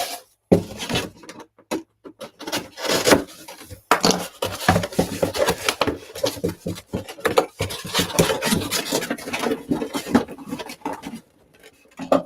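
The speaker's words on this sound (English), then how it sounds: "I'm just going to cut our new flaps." Scraping, rasping cuts through a cardboard shipping box as new flaps are cut, irregular rough strokes with brief pauses, close and fairly loud.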